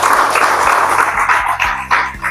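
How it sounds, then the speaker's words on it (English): A crowd at a polo club gathering claps loudly and continuously to welcome a guest, close, bright applause with a low rhythmic musical beat pulsing underneath. "So a round of applause."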